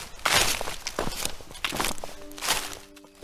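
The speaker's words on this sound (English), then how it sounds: "Soft footsteps outside." Soft footsteps crunch on gravel outside, several uneven steps at close range, each one a gritty scrape, with a low tone entering near the end.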